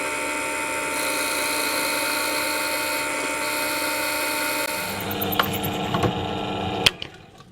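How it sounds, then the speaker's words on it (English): A drill drives a Forstner bit into guitar body wood, a steady close whine holding for about five seconds before it winds down into a few clunks and handling knocks. "I need to go in 13mm with the hole, and there's about a 4mm tip on the end of this Forstner bit."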